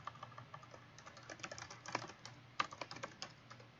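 Quick, steady keystrokes on a computer keyboard, clicking faintly and close by in an irregular stream with a few louder taps.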